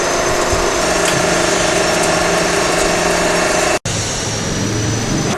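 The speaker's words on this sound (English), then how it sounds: "The aggregate inside the testing cylinder is compressed with the axial force." A compression testing machine presses coarse aggregate inside a testing cylinder under axial load during a crushing value test, giving a loud, steady mechanical drone with one very brief dropout near the end.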